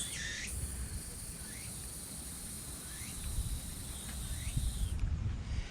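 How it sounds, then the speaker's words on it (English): A steady high-pitched drone of cicadas hangs over a quiet outdoor scene near a stadium in Japan, with faint background rustle and a few soft chirps. "that weird noise you can hear is coming from insects known as cicadas"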